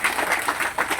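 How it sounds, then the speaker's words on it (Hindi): Wedding guests applaud the couple at a Gayatri Pariwar marriage ceremony, a close, steady patter of many hands clapping in a continuous rippling wash. "जोरदार ताली बजा दीजिए इनके लिए"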